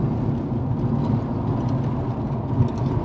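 Mercury Cougar V6 engine heard from inside while cruising in higher gears, a smooth, steady mid-pitched hum with no sharp revving.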